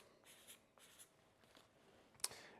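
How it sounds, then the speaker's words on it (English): Pen strokes scratch softly across paper envelopes while symbols are drawn, a series of faint, short scraping marks in an irregular rhythm, ending with a slightly sharper tap. "So you're gonna make some symbols on the envelopes."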